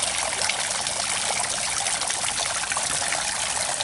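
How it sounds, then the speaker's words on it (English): Sulfur spring water trickles and splashes steadily close by, a continuous bright, even wash of liquid sound with no pauses. "Definitely spring water."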